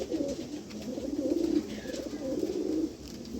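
Rampuri pigeons coo in a low, steady murmur, several throaty rolling calls swelling and fading close by with no voices over them.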